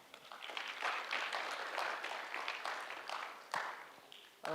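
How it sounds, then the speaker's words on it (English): Audience applause at the Frappeverse Africa 2025 event, a steady burst of many hands clapping for about four seconds at a moderate level, with no speech over it. "let's give them a warm, hearty clap."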